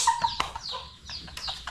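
Chickens cluck in a quick series of short, close calls with a brief wing-flap-like burst, the flock heard alone without talk.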